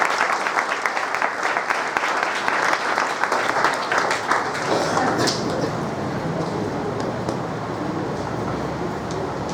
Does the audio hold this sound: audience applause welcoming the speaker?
yes